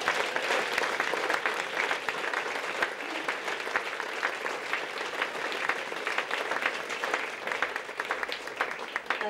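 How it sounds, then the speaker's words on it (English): An audience at a magazine TV show event gives a sustained round of applause, dense and even clapping that holds at a steady loud level for several seconds with no talking over it. "if everyone could give him a round of applause for me"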